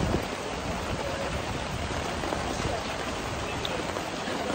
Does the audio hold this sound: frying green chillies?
no